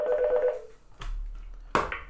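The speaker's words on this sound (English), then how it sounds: "We're going to start by just dialing the extension of another phone here in my office, 2803." A Mitel IP 420 office phone dialing an extension gives a sustained tone, then a short gap and two sharp electronic beeps in a quiet office.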